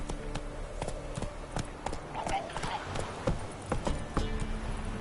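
Roach, a horse in the video game Witcher 3, gallops with steady clip-clopping hooves while characters talk over the rhythm and game music plays underneath.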